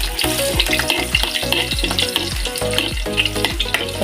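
Onion and garlic frying in hot oil in an old, well-used wok, a steady close sizzle broken by repeated stirring scrapes and clanks in an uneven rhythm, with no voices.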